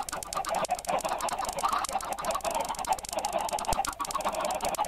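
Many chickens cluck and chatter at once in Minecraft, a dense, busy flock sound with constant overlapping calls and no talking.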